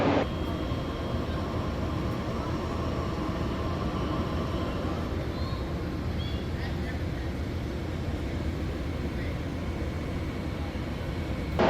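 An Amtrak California Zephyr train idles at Omaha station at night, a constant low engine rumble and hiss filling the scene with faint distant tones, steady and unbroken.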